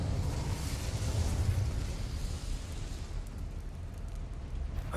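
Fire spell cast in Hogwarts Legacy: a sustained whooshing, roaring burst that swells over the first half and then settles into a steady low rumble, with no talking.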